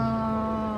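A single short cat meow, close and clear, with a steady tonal pitch and no voices around it.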